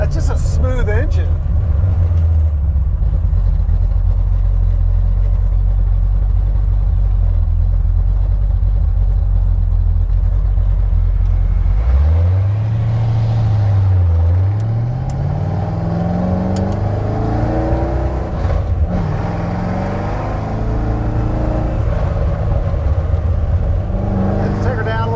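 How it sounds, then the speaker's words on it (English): A red Ford Mustang engine rumbles steadily with deep low tones while driving, then revs up and settles back in a noticeable rising and falling swell, with people talking over it throughout. "That's just a smooth engine."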